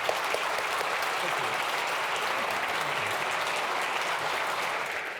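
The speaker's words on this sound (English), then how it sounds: "Shall we give them a round of applause?" An audience at a programming conference keynote applauds, a loud, dense, sustained clapping from a large crowd that holds steady for several seconds before easing off slightly, with faint voices underneath.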